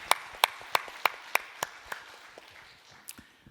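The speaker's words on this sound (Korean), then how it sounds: "우리 하나님께 큰 영광의 박수 올려주시다." A church congregation at a Monday intercessory prayer meeting breaks into applause, opening with a few loud, evenly spaced rhythmic claps that fade into scattered, softer clapping from the room.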